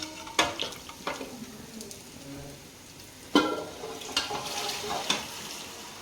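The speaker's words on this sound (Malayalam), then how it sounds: "നമുക്കിനി വെന്തിരിക്കുന്ന ബീഫ് ഇതിനകത്തോട്ട് മിക്സ് ചെയ്യാം." Cooked beef is stirred into a pan of onion gravy: a spoon scrapes and clatters in irregular strokes over a soft, steady sizzle, with a few sharper knocks against the pan.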